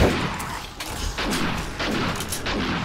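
Gunfire from a weapon in the zombie survival game 7 Days to Die, fired in repeated loud bursts at close range over a dense, busy game soundscape, with no voices over it.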